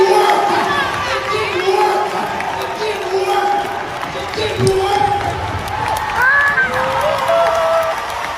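A church congregation cheers and shouts together during a service, a lively mass of voices with scattered whoops and rising bursts of excitement, steady and fairly loud throughout.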